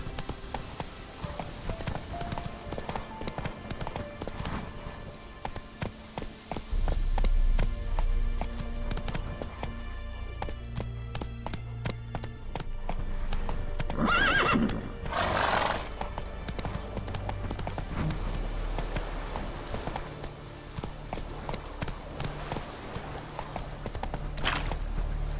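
A horse in The Witcher 3 gallops with rapid continuous clip-clop hoofbeats over game ambience, rising to a loud whinny midway before the galloping carries on.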